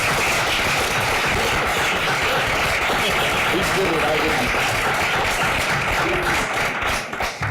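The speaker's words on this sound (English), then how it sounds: "I would like us to give them all a round of applause" A board of education meeting audience gives a sustained round of applause for parents, dense continuous clapping from many hands filling the room, loud and unbroken before tapering slightly at the end.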